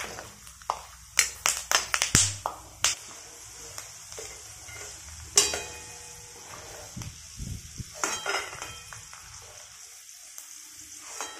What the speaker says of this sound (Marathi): अगोदर शेंगदाणे तळून घ्यायचे